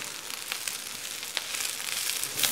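Kale fries in a pan with a constant crackling sizzle, close and moderately loud, punctuated by a few sharper pops, with no talking over it.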